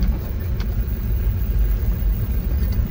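A car driving along a hill road in Mizoram, its engine and road rumble holding a steady, close, continuous low drone with no voices.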